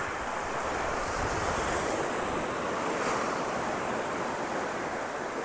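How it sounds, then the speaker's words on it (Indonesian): Sea waves breaking on a shore beside a coastal road, a continuous broad roar of surf mixed with wind noise, steady and loud throughout with no voices. "Mungkin karena arus di sini yang agak kuat, berhubung ada pulau di depan, sehingga gelombangnya agak besar."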